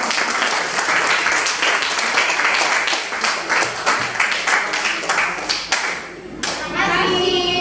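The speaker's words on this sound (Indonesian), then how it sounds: "berikan tepuk tangan kepada kelompok 1" Classroom applause from secondary school students for group 1 after their presentation, lively clapping from many hands with a young voice or two breaking through, dying away near the end before chatter resumes.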